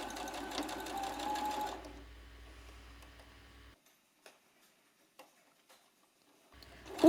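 A sewing machine with an invisible-zip foot stitches in a fast, even whirr for about two seconds, then slows and stops, leaving near silence with a few faint clicks before a brief sound at the end.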